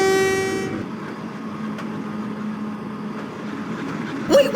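A toy train in an animated story pulls away: a loud horn blast opens, then a steady rumbling run with faint clicks, and a sharp squeal near the end.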